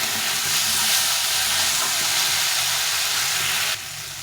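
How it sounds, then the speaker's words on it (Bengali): Drumsticks and potatoes frying with spices in a pan, making a dense continuous sizzle and hiss that drops off sharply near the end, with no talking. "এটাকে এই মশলার সঙ্গে কষিয়ে নিতে হবে ভালো করে"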